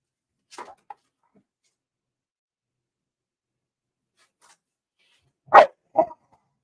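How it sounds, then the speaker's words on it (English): Dogs bark in short isolated bursts: a faint pair early, then two louder barks a few seconds later, with quiet in between. "dogs are barking over here"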